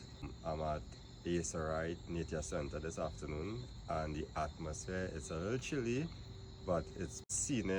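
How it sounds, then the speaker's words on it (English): Crickets or frogs trill continuously in a steady high-pitched chorus outdoors at a nature center on a chilly afternoon, heard faintly underneath a person talking throughout. "You hear the birds in the background, you hear the frogs"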